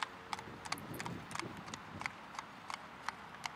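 A Hackney x Andalusian cross horse walking on a town road, its shod hooves striking the pavement in a steady clip-clop rhythm, close and clear over faint background noise.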